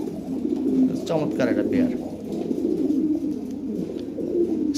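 Lahore pigeons, including a red Lahori pair, coo in soft low repeated calls close by, with someone talking over them throughout.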